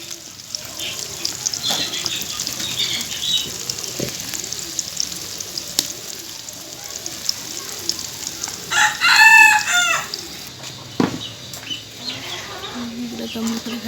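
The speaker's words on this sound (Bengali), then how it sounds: "ওই পাশে দেখেন মুরগিগুলো কীভাবে মারামারি করতেছে।" Chickens squabbling and clucking nearby with a rooster's crow rising midway, heard over a steady sizzle of frying food in a home kitchen, with someone talking at times.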